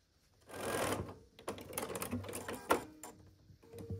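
Sewing machine stitching quilt pieces for a pumpkin quilt top, short bursts of rapid mechanical whirring and clatter at low level, with brief pauses between runs.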